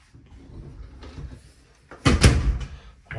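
A molded fiberglass shower door in a 2016 Tiffin Allegro Red 37PA diesel pusher motorhome is pulled open and shut, with soft rattles and then a louder sliding bump and thud, close by with no talking.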